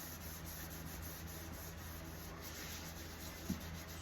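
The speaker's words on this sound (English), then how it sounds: "as I'm sanding and I'm trying to remove this lip" Steady, continuous abrasive rubbing of sanding a first coat of Envirolak 100/30 lacquer, close and even throughout, with one brief tap near the end.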